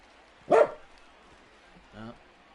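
A dog barks during a simulated Brewers versus Cardinals baseball video game, one loud sharp bark near the start followed by a softer, shorter one about a second and a half later, over a quiet background.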